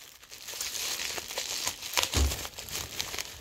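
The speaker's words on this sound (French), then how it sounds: "Je me bats avec mon colis." A parcel's plastic packaging crinkles and crumples up close, with a few sharper tearing rips mixed into irregular bursts of rustling, and no one speaking.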